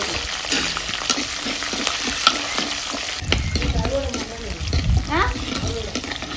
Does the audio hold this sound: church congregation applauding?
no